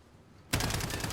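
A Striker .45 (UMP 45) in a video game fires a loud, rapid full-auto burst at close range. It breaks in suddenly after a brief quiet and keeps firing to the end.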